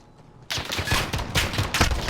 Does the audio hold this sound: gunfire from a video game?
yes